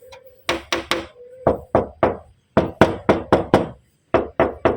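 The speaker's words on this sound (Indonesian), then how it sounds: "Nah ketok, kalau mobil ada dempulan kan beda suaranya." A hand raps on a car body panel patched with body filler in quick bursts of two to four knocks, dull, bassy and close, with short pauses between groups.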